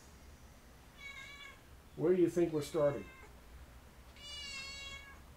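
A female house cat meows twice, a short cry followed later by a longer, louder one, with a person talking between the calls.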